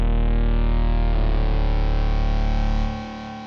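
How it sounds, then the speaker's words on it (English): A sustained distorted UK bass synth note plays loudly for about three seconds, its tone shifting midway, then drops away into a quieter delay tail as feedback is automated at the note's end. "I also have a delay automation with the feedback and dry wet, kind of like doing this shape as the note finishes."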